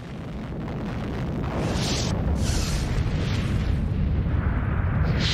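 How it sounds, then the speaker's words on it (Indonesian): A deep, sustained roaring rumble, like a massive distant explosion, rolls on steadily and builds slightly in loudness without pause. "Untuk ledakan nuklir seperti ini"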